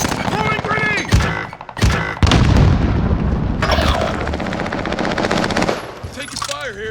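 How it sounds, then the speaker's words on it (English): Gunfire and a grenade explosion in a shooter video game during a Godzilla and King Kong event match, with bursts of rapid machine-gun fire and a loud boom. Players talk over the loud, continuous combat. "Throwing grenade!"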